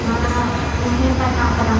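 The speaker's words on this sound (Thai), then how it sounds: "ขบวนรถโดยพิเศษทักษิณารัตน์ที่31กรุงเทพชุมทางใหญ่จอดเทียบทางที่4ครับ" Special express train 31 arriving at platform 4 of a large Thai railway junction station, a steady loud low rumble of rolling rail cars close by, with someone speaking over it.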